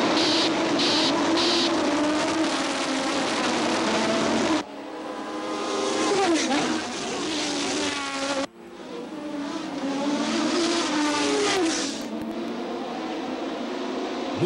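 Formula 1 race car engines from the 1987 season, Team Lotus Honda, scream past at high revs with Doppler pitch sweeps, loud and continuous, cutting abruptly between passes.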